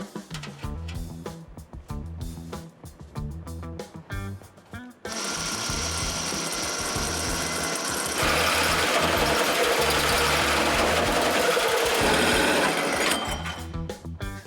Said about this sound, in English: we're gonna drill some holes